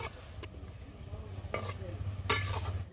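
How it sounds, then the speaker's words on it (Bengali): Palm fruit fritters (taler bora) frying in oil, giving a steady close sizzle with a few sharp clatters of a utensil against the pan, without talk. "এভাবে অল্প অল্প করে আমি সব বড়াগুলো ভেজে নেব।"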